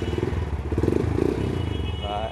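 A motorcycle engine with 30,000 km on it idles close by with a throbbing, pulsing rumble, uneven beats rising and falling throughout.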